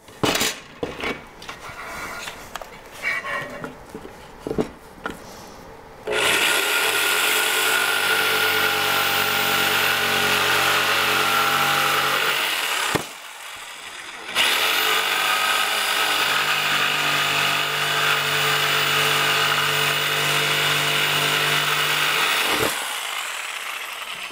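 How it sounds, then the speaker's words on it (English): A jigsaw cuts scrap wood for a garden tool storage rack, starting with a few knocks and clatters, then a loud, steady, buzzing cut for about seven seconds, a brief pause, and a longer sustained cut close by. "And for that, I'm gonna use the jigsaw."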